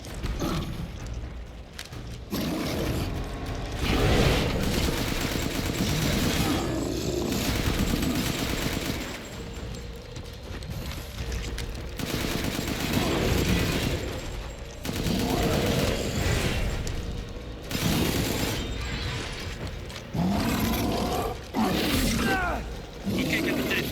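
Rapid bursts of gunfire in the video game Resident Evil Village, mixed with roaring creatures and loud chaotic combat noise in repeated waves, with occasional talking over it.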